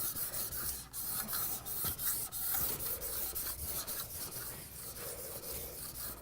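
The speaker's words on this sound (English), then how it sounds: "The last step is to take the trowel, and you're going to push it down" A steel trowel rubbed vigorously back and forth over Venetian plaster on a wall, giving a steady, close, raspy scraping that pulses with each firm stroke, continuous throughout with no voices.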